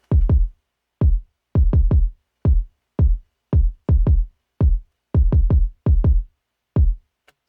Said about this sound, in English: I added some parallel compression, and all it was the CLA 76 by Waves